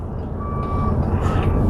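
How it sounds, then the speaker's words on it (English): A big truck rumbles loudly close by, and a single high reversing beep sounds briefly over the heavy engine noise. "Back this big ass truck."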